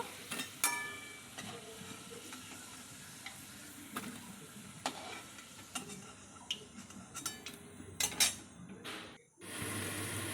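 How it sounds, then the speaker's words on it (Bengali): Potatoes frying in hot oil as they are lifted out of the pan, a steady sizzle with scattered ticks and scrapes of a utensil against the pan, close and moderately loud, ending in a brief pause and then a louder burst of sizzle. "তেল থেকে এবার আলুগুলো নামিয়ে নেব"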